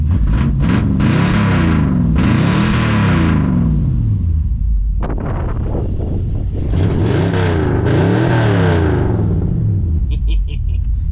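A 1954 Chevy cabover truck's engine runs loud and close after a carburetor swap, rumbling and revving in repeated surges with wind buffeting the microphone.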